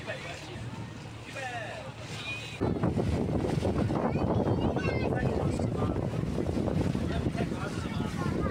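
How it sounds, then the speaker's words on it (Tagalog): Strong wind on a boat buffets the microphone in a loud, continuous rush, jumping in intensity partway through, with voices speaking faintly beneath it. "Lakas ng hangin"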